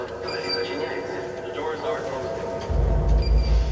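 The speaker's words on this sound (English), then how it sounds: "And I also picked up the subway sound." Kyiv subway train rumbling, a steady mid-level rail drone with a heavier low roar swelling near the end, under voices and ambient noise.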